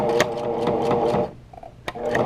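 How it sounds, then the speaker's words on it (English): A sewing machine back stitching quilt fabric in a roundabout quilting set, running in a fast close chatter, stopping for a moment with a sharp click, then stitching again. "so I back stitch here, and then I'm going to go ahead and back stitch right here"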